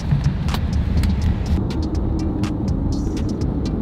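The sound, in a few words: Tesla Model Y electric car driving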